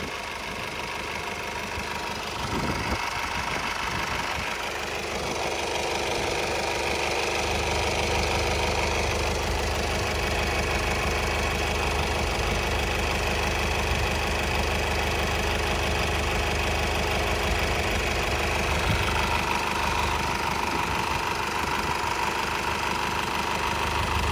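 A Honda City engine idling steadily while drawing in carbon cleaner, a continuous low hum with a steady hiss, close and unbroken, with a slight disturbance in the first few seconds and no voices.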